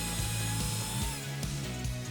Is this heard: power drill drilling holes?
yes